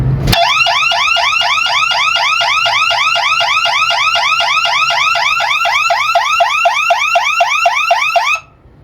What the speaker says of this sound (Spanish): pero la alarma ya empezó a funcionar